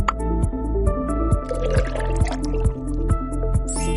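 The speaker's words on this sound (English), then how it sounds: "Now fill up the bottle with some water." Water poured into an empty plastic bottle for a simple home science experiment, a steady gurgling fill with small drips and sloshes, close and alone, with faint background music.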